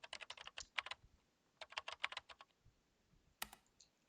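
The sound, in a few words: fingers hitting computer keyboard keys hard, from video game Chaos;Child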